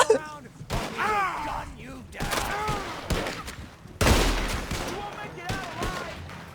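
Gunfire in Red Dead Redemption 2 during a shootout on a low-budget mission: irregular bursts of shots crack between speech, with a loud volley midway. Voices talk throughout.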